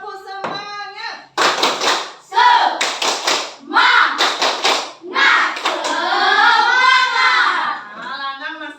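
Schoolchildren standing in a classroom perform the tepuk semangat clapping chant led by their teacher: close, rhythmic bursts of hand claps interleaved with loud chanted voices, stopping and restarting in short groups.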